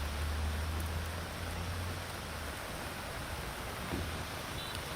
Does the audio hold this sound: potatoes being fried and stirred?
no